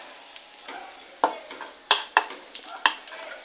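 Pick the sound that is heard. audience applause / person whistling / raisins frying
raisins frying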